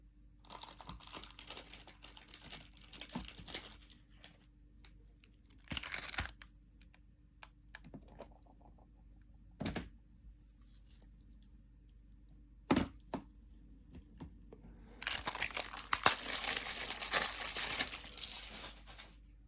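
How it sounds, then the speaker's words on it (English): Masking tape being pulled from the roll and pressed onto a Moomin house model kit, heard as scattered crinkly tearing bursts and short rips, with a louder sustained stretch of tearing near the end; no talking. "Get the other masking tape out."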